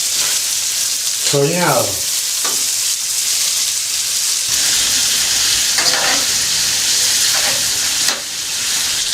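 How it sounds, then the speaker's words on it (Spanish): Meat sizzles steadily while roasting, a loud, continuous frying hiss with crackles, while someone talks briefly over it. "El chillido de la carne, el chirrido, no sé cómo se dice, pero es cosa linda."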